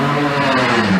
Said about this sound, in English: That's the big sound of Mike Verrier in the Shelby Nissan